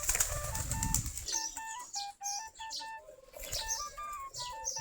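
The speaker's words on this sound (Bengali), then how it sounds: "খাবার খাওয়ার জন্য কিরকম করতেছে দেখেন। যে আমাদের দেশি গিরিবাজ কবুতর দেখেন যে সবগুলা কূপের কাছে চলে আসছে।" A flock of Deshi Giribaz pigeons chirp and flap their wings close by as they gather for food, with brief bursts of fluttering among the calls and tonal music in the background.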